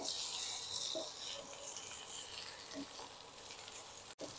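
Half-fried vegetables for Bengali shukto, with a little sugar stirred in, give a soft, steady pan sizzle with faint stirring scrapes and a brief cut-out near the end.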